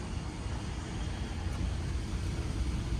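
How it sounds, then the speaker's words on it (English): A 2023 Nissan Pathfinder Platinum 4WD, started by key-fob remote, idles with a low, steady engine rumble at moderate distance and no talk over it. "The car will remotely start."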